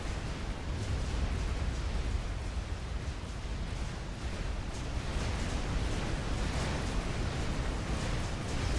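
Artillery pieces pounding targets in the Supreme Commander real-time strategy game, a dense, continuous roar of overlapping explosions and rumbling blasts with no pauses, loud and sustained throughout.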